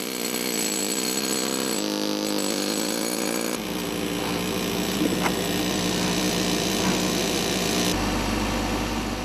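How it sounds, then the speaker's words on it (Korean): A drill cuts stone at a large granite quarry in Onyang, Korea, grinding loudly and continuously with shifts in pitch and load as the bit works through the rock. "선에 맞춰 각지게 돌을 자르는데 조금만 드릴이 빗나가도 돌이 부서질 수 있어 숙련된 기술이 필요하다."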